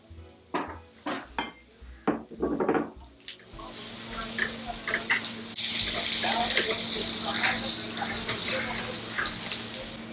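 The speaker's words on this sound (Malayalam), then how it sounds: "സവാള ഇട്ട് സോപ്പ് ചെയ്യാം." Onions being sautéed in a pan for a Shahi chicken curry. Clattering and scraping of utensils come first, then a steady, loud sizzle of frying holds throughout.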